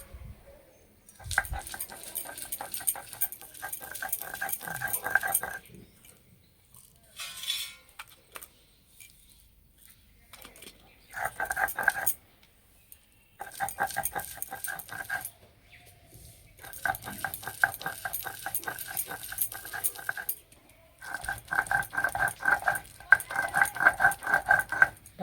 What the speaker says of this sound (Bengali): ডালটা খুব সুন্দর ভিজে আছে বলে বাটতে একদমই সময় লাগলো না